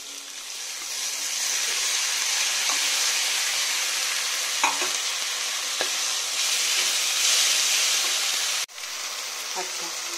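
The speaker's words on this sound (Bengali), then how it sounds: "তো এবারে বেটে রাখা মশলাটাকে আমি মিশিয়ে দিচ্ছি।" Ground spice paste being stirred into onions frying for a Bengali egg curry (dimer jhol), a steady loud sizzle with occasional scraping clicks of the spoon throughout.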